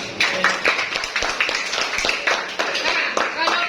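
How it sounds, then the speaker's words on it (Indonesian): Students in a classroom clap together, a burst of quick, fairly close handclaps with uneven rhythm, some individual claps standing out, lasting a few seconds. "Oke, tepuk tangan dulu."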